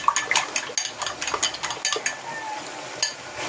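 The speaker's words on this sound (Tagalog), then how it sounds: "And then, meron akong 2 egg. Haluin muna natin." Two eggs being whisked in a bowl give a quick run of light, rhythmic clinks and taps from the utensil against the dish, close and fairly clear, slowing near the end.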